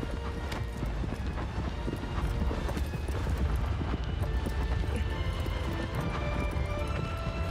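Horse hooves galloping in the Shadow of the Colossus video game, a fast steady clip-clop rhythm that stays close and loud, with a faint voice underneath.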